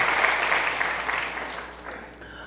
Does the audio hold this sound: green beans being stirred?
no